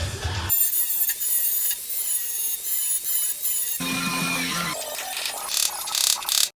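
A screwdriver pries and peels a spot-welded rocker panel away on a C10 pickup, producing loud, sustained metallic scraping and squealing with a lower grinding stretch midway and brief pauses between strokes.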